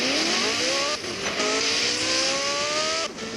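A car drives hard and fast, its engine revving up through rising pitches with brief gear-change dips and a whine of tire squeal, loud and close throughout.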